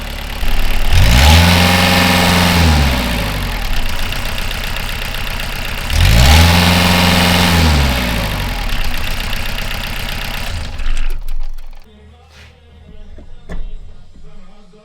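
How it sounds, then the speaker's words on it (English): Diesel engine of a Pel Job LS2000 excavator runs with its Rexroth variable displacement hydraulic pump removed, rising twice into loud revs before falling back to a quieter idle near the end. "I need to make sure the engine runs fine without pump"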